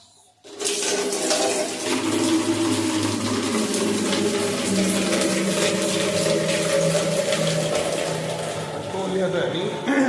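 Cold tap water gushes steadily into a container for about ten seconds, a loud continuous rushing and splashing that starts abruptly after a brief quiet moment.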